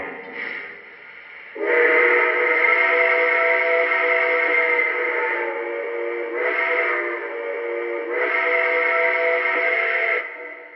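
A loud, sustained multi-tone Lionel model train steam whistle sounding in long blasts with brief dips between them, no voices.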